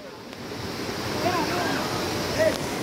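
Kilangin Falls on Mount Banahaw in Liliw, Laguna, gives a steady broadband rush of falling water that fills the whole clip, with faint thin tones over it and no talk.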